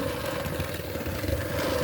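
A motorized electric mixer beats eggs, whirring continuously with a steady buzzing hum, running close up without pause.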